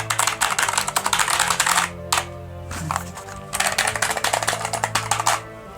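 Fast, continuous typing on a TECKNET mechanical keyboard, loud and near, with crisp clicky keystrokes that break off twice for brief pauses before resuming.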